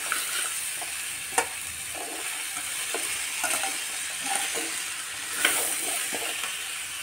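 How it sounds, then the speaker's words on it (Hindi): Carrot pickle frying on a low flame, a soft continuous sizzle with scattered stirring scrapes and a few sharp clinks from a close utensil, without talking. "धीमी आंच में फ्राई करूंगी।"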